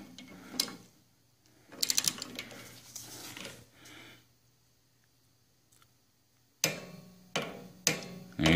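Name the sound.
torque wrench ratchet tightening brake bolt on Harley Street Glide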